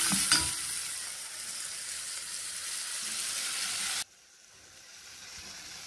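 Dried cowpea leaves are stirred into a boiled sauce, giving a steady close hiss and sizzle after a brief clatter at the start, cut off abruptly to near quiet partway through.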